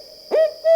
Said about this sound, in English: The barred owl can sometimes be seen hunting during the day. It has that famous call